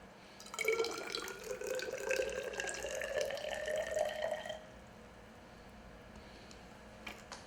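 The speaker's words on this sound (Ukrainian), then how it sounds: "Для цього наліємо в мензурку певну кількість води." Water is poured into a measuring cylinder, a steady splashing trickle lasting about four seconds that rises slightly in pitch as the vessel fills, then gives way to quiet.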